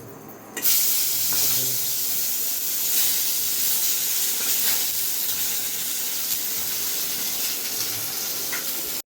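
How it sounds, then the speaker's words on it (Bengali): Pieces of taki (snakehead) fish fry crisp in hot oil, a loud, dense, steady hiss of sizzling that starts abruptly and carries on close by without a break. "এবার বেশ একটু কড়া কড়া করে ভেজে নেব"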